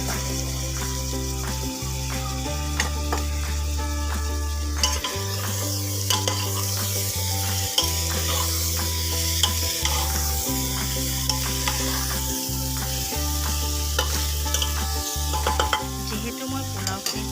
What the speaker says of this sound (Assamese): এতিয়া মই ধুই থৈ দিয়া বাসমতি চাউলখিনি দি দিম